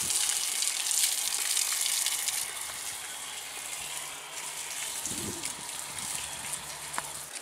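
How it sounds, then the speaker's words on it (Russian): Water splashes and gushes steadily as a hose waters a freshly poured concrete foundation screed in summer heat, a moderate outdoor spray with occasional louder splatters. "Папа наш поливает фундамент."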